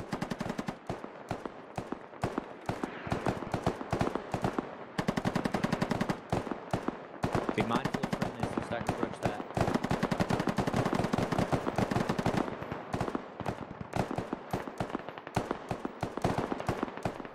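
Rapid bursts of automatic rifle fire and single shots crack repeatedly throughout a Squad military shooter game firefight, loud and close, with brief pauses between volleys.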